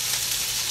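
Cross-rib steaks sizzle steadily in a hot pan, a continuous close bright frying hiss with no pauses, loud and alone.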